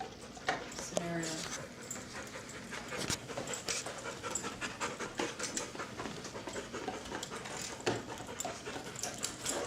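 Dogs pant rapidly and continuously in quick rhythmic breaths close by, with occasional soft whimpers, paw patter and faint human voices in the background.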